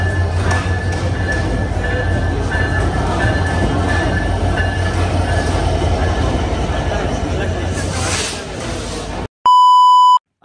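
Chitra Express passenger train rolling along with a steady loud rumble and rattle, a faint tonal whine running through, then a sharp electronic beep at the end.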